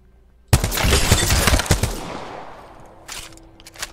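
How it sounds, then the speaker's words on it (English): A G7 Scout rifle fires in double-tap bursts in Apex Legends, a sudden loud flurry of quick paired shots that rings out and decays, followed by a few fainter shots at a distance. "they put the G7 Scout in. But it's not the normal one, it's the double tap one."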